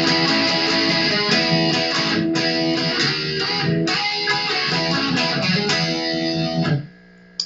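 Distorted electric guitar with effects plays a riff, chugging bar chords in a steady rhythm, loud and close, then cutting off abruptly near the end.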